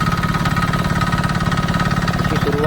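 A tractor idles in a paddy field during rice sowing in Kumbhavade, Rajapur, in Konkan, its engine thumping steadily and close.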